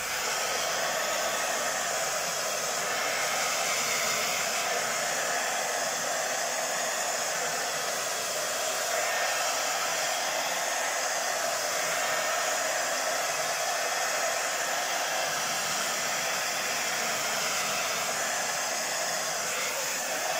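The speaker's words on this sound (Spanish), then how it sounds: "Con el secador otra vez." A hair dryer blows steadily over an acrylic pour painting of a heart, a loud, close, unbroken rushing hiss with no talk.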